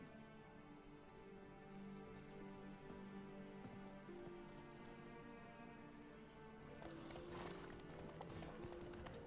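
Horse hooves clip-clop in a steady rhythm during a race in The Witcher 3, set against a sustained musical score, with a burst of brighter, busier hoofbeats and noise near the end.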